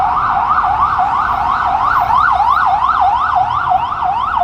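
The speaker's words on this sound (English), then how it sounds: "We got a cab and a ambulance." Ambulance siren wailing loudly and steadily on a New York City street at night, its rising and falling tone repeating fast and continuously with faint traffic rumble underneath.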